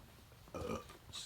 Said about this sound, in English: Excuse me for burping.